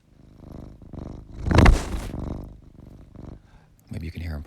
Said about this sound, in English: Maybe you can hear him purring.